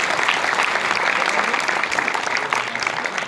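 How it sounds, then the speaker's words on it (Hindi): An audience applauds awardees at a Governor-chaired ceremony for Dr. Ambedkar's 130th birth anniversary, with dense, steady clapping from a large crowd filling the hall throughout. "इनके लिए तालियों की कंजूसी नहीं होनी चाहिए"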